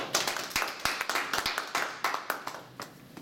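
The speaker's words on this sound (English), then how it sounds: "let's clap Jessica" An audience claps for a speaker at an event: a close, brisk run of separate hand claps that keeps going without a break and with no voices over it.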